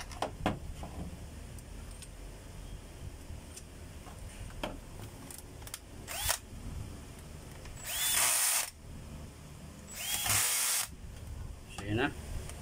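A power drill drives screws in short bursts, two loud whirring runs of about a second each, with lighter clicks and tool handling between them while someone talks in Tagalog throughout.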